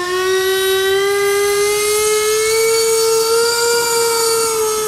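Electric ducted fans on a Dynam ME-262 model jet give off a steady, loud, high-pitched whine with stacked tonal harmonics that rises slowly as they spool up, close by and continuous with no talking.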